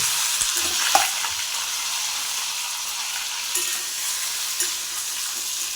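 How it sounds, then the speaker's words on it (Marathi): Brinjal sautéing in hot oil with mustard seeds and cumin, a steady close hiss of frying with a few stirring scrapes and light knocks of a spoon against the pan, no speech. "आता थोडंसं जिरं टाकून घेऊ आणि ही वांगी आता आपण याच्यात टाकून घेऊ आणि चांगली परतून घेऊ"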